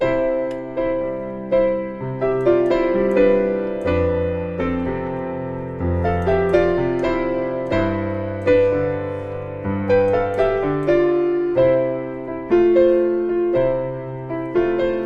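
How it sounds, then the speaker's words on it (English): A piano plays a bouncy, catchy melody over steady chords, clear and close, repeating in short rhythmic phrases with no talking. "you're probably hearing that really catchy melody that sounds like this"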